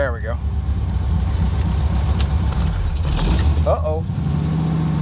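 A 1978 Corvette with a Motorsports Unlimited top-end kit and Tremec TKX manual gearbox runs with its choke on, a steady close engine drone pulling away beneath brief talk.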